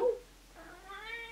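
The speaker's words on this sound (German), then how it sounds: "Miau." A house cat gives a short, close meow that rises and wavers, heard alone in a quiet indoor room.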